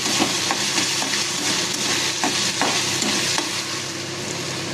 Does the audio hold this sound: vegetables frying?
yes